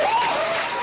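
An audience claps in a short, dense burst of applause for a startup business segment, loud and continuous with no talk over it.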